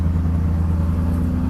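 A small vehicle nicknamed the race car idles and rumbles on a patio and drainage job site, a loud steady low engine drone close by with no talking.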